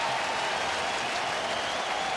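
Applause and cheering from a big crowd of about 27,000 at a Cincinnati Reds home baseball game against Atlanta fill the stands, a steady dense wash of clapping held at full loudness with no break.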